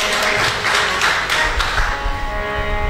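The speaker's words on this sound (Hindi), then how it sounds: "जोर से खुदा के लिए तालियां बजाएं" A prayer service congregation claps with a few rhythmic sharp claps over a loud, sustained background of voices and music, the clapping fading as the sound settles.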